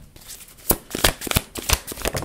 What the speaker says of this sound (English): Start with the tarot cards.